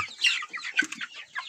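Young Leningrad-breed roosters cluck and chirp close by in short, irregular bursts, with no talking.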